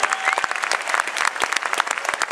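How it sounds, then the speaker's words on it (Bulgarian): Spectators at a fight gala applaud two low-kick fighters, one Bulgarian and one Turkish, in the 71 kg class with brisk, close, continuous clapping that stays loud throughout. "Още малко аплодисменти за тях."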